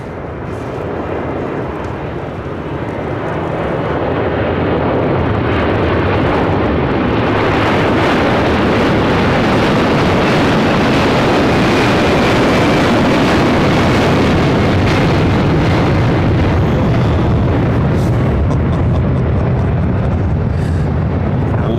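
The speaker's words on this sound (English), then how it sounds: "Heavy MD-11 will depart." A heavy MD-11 jet departs LAX with a broad, roaring engine rumble that swells over the first few seconds and then holds loud and steady, with wind buffeting and no voices.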